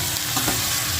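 Beef liver sizzling and frying in a hot pan, a dense continuous hiss with a faint clink of stirring, no voices.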